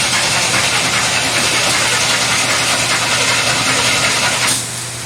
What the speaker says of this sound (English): So I'm going to crank it and watch the gauge.